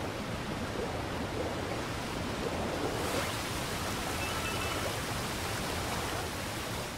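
Rushing water from a waterfall in the video game Super Mario Odyssey, a steady broadband roar that holds even and unbroken throughout, with no talk.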